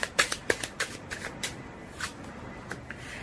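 Tarot cards are shuffled close by in a quick run of crisp riffling snaps that slow into softer, scattered flicks and taps.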